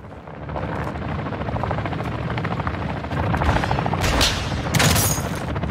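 Helicopter rotor drone from MW3 Zombies on the Terminus map, loud and continuous, mixed with bursts of gunfire and explosive booms toward the end, no talk.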